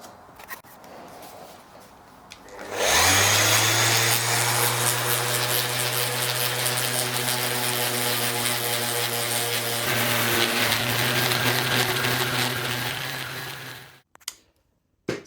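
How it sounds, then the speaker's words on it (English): A random orbital sander fitted with 120 grit paper runs on wood, a loud steady drone that spins up, holds for about eleven seconds with a constant hum, then winds down and stops. "I'm sanding with a 120 grit on a random orbital."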